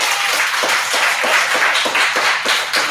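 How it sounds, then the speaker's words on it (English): Audience applause for a poet at a slam scoring, a dense, steady wash of many hands clapping close by, sustained at full strength for about three seconds with no voices over it. "applaud the poet."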